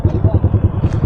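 A Yamaha R15 M motorcycle fitted with an Akrapovic exhaust at a drag race, its engine throbbing in a fast, even pulse close by, loud and rough through the whole moment.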